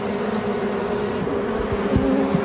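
Honey bees buzz steadily in an opened beehive on a mountain farm in Spain, a dense, close swarm drone with no one speaking.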